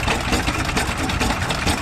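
Two antique Avery tractors with two-cylinder opposed engines run together at a tractor show, giving a loud, steady, rapid chugging beat with no pauses and no voices.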